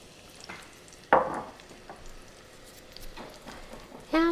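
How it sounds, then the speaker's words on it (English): Onions hit a cast iron pot for turkey chili, with a sudden burst of sizzle, then quieter frying with soft stirring sounds and another loud sizzle surge at the end. "Next, we're going to add our onions."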